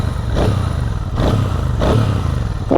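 A 2024 Royal Enfield Shotgun 650 motorcycle engine runs nearby with a steady, loud rumble, swelling in three rhythmic pulses as the throttle is blipped, with no talking over it.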